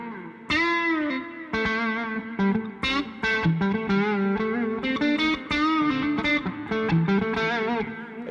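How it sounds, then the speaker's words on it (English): Electric guitar through a Tube Screamer overdrive playing a lively riff of chords and single notes, warm and slightly crunchy, with a touch of reverb, loud and alone. "this one's got a little bit of a tube screamer up the front as well"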